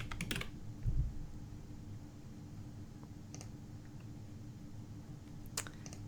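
Keys on a computer keyboard are tapped in short bursts of quick clicks, with a brief flurry at the start, scattered single taps later, and a quiet room hum between them.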